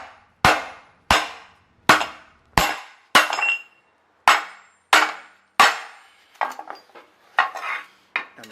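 A hammer strikes a bolt in a vehicle's upper control arm, about ten sharp metallic blows ringing out one after another at a steady pace, then coming faster and lighter near the end, loud and close with no talking.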